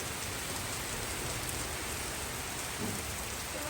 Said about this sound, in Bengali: কত সুন্দর বৃষ্টি পড়তেছে